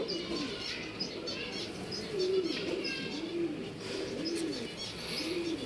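Several male pigeons coo repeatedly in low, rolling calls at a bird sale in RT Nagar, Bangalore, with fainter chirps and wing flutters mixed in. The cooing is fairly close and steady.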